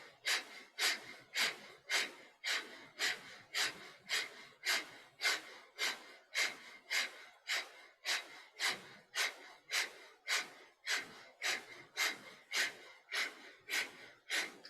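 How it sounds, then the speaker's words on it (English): Rapid, rhythmic forceful breathing of the breath of fire yoga technique, done with the feet raised toward the ceiling: a steady run of sharp nasal exhales, roughly two per second, close and alone. "Breath of fire."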